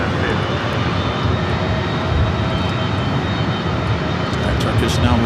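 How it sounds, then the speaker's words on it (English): A Turkish jet airliner roars steadily as it rolls down runway 24 left at LAX, a loud, broad, continuous engine rumble heard from nearby. "Turkish now rolling down the 24 left."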